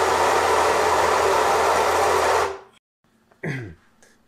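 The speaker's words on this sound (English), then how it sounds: "I'll purge a little bit more through the grinder to make sure I got all the old grounds out." A Baratza Vario coffee grinder running to purge old grounds, a loud close whir that stops after about two and a half seconds, then a brief clatter.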